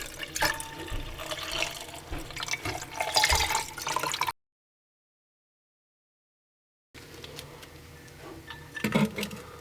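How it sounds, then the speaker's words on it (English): Water trickling and dripping through a paper coffee filter while filtering a graphite-laden solution from epsom salt electrolysis, a steady close liquid patter that breaks into silence midway before resuming. "carefully filter it through here using one of the coffee filters similar to this one"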